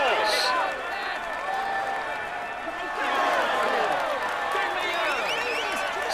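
Roadside crowd at the Tour de France 2020 stage from Châtel to Puy Mary, a continuous roar of applause and cheering under overlapping voices, steady and fairly distant, lifting again midway.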